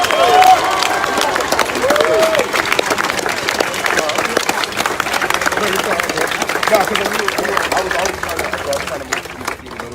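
A large outdoor protest crowd applauds and cheers for several seconds, a loud, dense patter of many hands mixed with shouts and babble, with a voice speaking through it before the clapping thins toward the end.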